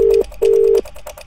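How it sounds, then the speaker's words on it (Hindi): A telephone ringback tone sounds after a redial, two loud, close electronic tone bursts, one short and one longer, followed by faint line noise. "दोबारा रिंग जा रही है, देखते हैं।"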